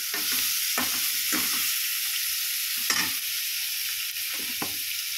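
Food sizzles steadily in a pan while a spoon stirs it, giving repeated scraping strokes at an uneven rhythm over a constant close frying hiss.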